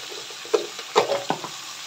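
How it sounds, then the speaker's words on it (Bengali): Gourd and potato pieces frying in a pan with ginger-garlic paste, giving soft sizzling with a few brief stirring scrapes and clatters at irregular moments, close and fairly quiet. "লাউ আলুটা একটু ভাজা ভাজা হয়েও গেছে"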